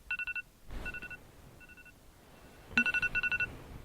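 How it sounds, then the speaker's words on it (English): An alarm rings in short repeated bursts of a bright electronic tone, two clusters of quick beeps separated by a quieter pause, heard alone with no talking. "why this alarm is ringing?"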